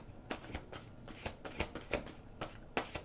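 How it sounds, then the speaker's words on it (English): Angel cards being shuffled up close: a quick run of soft, papery riffling bursts, about ten in three seconds, quiet and without talk. "One more little shuffle."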